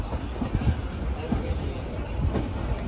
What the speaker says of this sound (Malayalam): ട്രെയിൻ ഇതാ ഡൽഹിയിലെ ഹസ്രത്ത് നിസാമുദ്ദീൻ റെയിൽവേ സ്റ്റേഷനിലേക്ക് എത്തിക്കൊണ്ടിരിക്കുകയാണ്